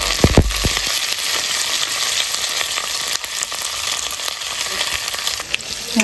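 Onions, green chillies and curry leaves fry in hot oil after tempering spices, giving a steady, loud, continuous sizzle with a few low knocks at the start.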